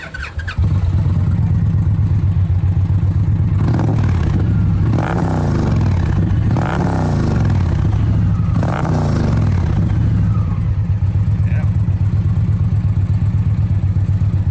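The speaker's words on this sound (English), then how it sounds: "I got an opportunity to hear the Aero exhaust in person for the first time" A bagger motorcycle with an aftermarket Aero exhaust idles with a deep, loud rumble at Road America, and a few sharp revs rise and fall in quick bursts before it settles back to a steady idle.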